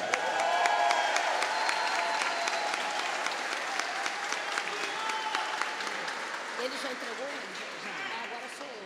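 Audience applause fills a formal solemn session in Niterói honoring the Heloneida Studart diploma, a steady dense clapping crowd that rolls on throughout with voices talking underneath.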